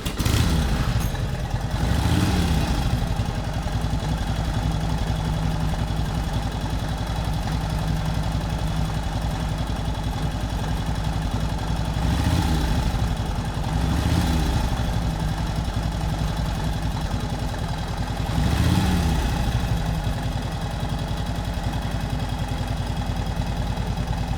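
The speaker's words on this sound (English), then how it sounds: "So we're going to get this bike fired up. You guys can hear it roar." A Harley-Davidson 80-inch flathead motorcycle engine runs steadily at close range, a loud continuous rumble with a few periodic swells as the throttle is blipped, and no talking over it.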